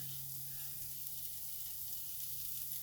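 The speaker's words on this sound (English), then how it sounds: "you can maybe hear it starting to sizzle a little as the pan's starting to melt it" Shredded parmesan cheese sizzles in a pan, a faint, even hiss that stays constant throughout beneath a low steady hum, with no voices.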